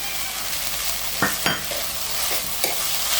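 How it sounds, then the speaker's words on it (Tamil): Broad beans stir-fried with grated coconut in a pan, a steady close sizzle broken by a few brief spatula scrapes and taps, no voices. "தேங்காய் போட்டு நல்லா வதக்கி விட்டுருக்கோம்."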